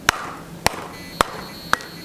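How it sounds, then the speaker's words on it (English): Four sharp metallic hammer blows on hot steel being forged into a bowl, at a steady, unhurried pace, each ringing briefly, with quiet gaps between and no talking. "I'm going to hammer that end in first"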